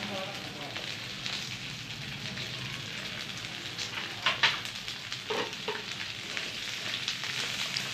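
Green chilies, small shallots and a little grated coconut sautéing steadily in a hot pan, a continuous close sizzle and crackle with occasional brief stirring scrapes.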